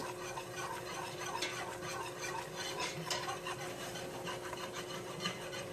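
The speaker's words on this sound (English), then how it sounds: "So I'm going to stand here and stir for a little bit." A roux of flour being stirred in a pot for broccoli cheese soup gives a steady, close scraping and rubbing with a spoon, continuous and fairly quiet for the whole stretch, with a faint hum underneath and no voices.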